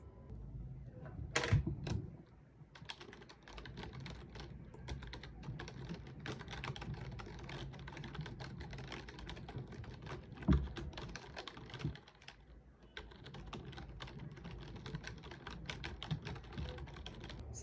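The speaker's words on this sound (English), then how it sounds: "how quiet is the keyboard and how loud or how soft typing on this keyboard is" Soft, quiet typing on a Razer Cynosa V2 keyboard: a steady, even patter of keystrokes runs for the whole stretch, with one louder knock near the start and a brief lull partway through.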